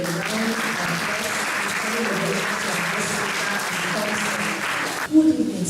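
A studio audience claps loudly and steadily, a thick continuous round of applause that cuts off abruptly near the end as a voice starts.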